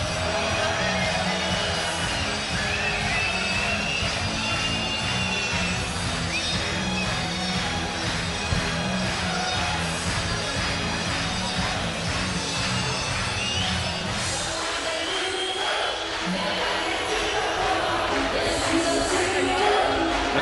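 A packed arena crowd at an MMA event sings along loudly to a Danish hit song as a fighter walks out, a dense, continuous roar of voices and music, with a commentator talking over it.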